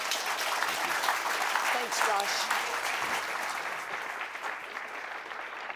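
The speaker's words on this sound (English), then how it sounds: "please give our panel a round of applause" Conference audience at a security forum in Halifax applauding a panel, sustained dense clapping that slowly tapers toward the end, with a brief spoken thank-you over it.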